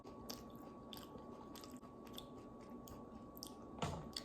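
Crispy frozen spring rolls bitten and chewed close up, a steady series of crunchy bites and wet chews over several seconds, with a sharper crunch near the end.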